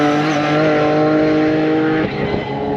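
Stuart McClelland's race car on the main straight at Knockhill circuit, a loud close engine howl held at high revs that shifts pitch sharply as it goes past.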